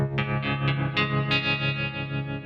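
Electric guitar picked near the bridge through effects with distortion and chorus, five bright plucked notes ringing one after another with a sustained shimmering tail, clean and alone with no talk.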